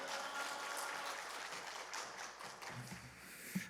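A congregation applauding together at a Korean prayer house service, a dense, steady wash of many hands clapping at moderate distance, tapering slightly toward the end.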